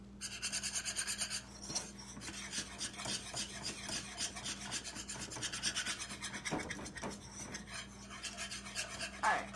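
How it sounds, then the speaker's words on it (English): A xanthan gum mixture whisked briskly in a bowl, producing a steady close rapid scraping and rattling rhythm with a few louder knocks and no talk. "I can't talk and whisk at the same time"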